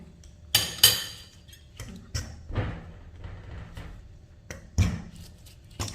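A metal spoon chopping cold butter into flour for raisin scones, making irregular clinks and soft thuds against a bowl, with louder knocks now and then at a close, moderate level.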